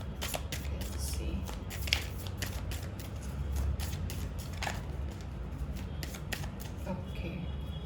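Tarot cards shuffled by hand, a steady run of close papery riffles and flicks that continues for several seconds over a faint background hiss.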